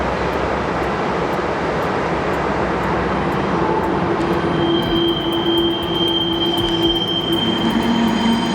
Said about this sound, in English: A 9-locomotive monster train tearing through Byers Canyon on the legendary Moffat route.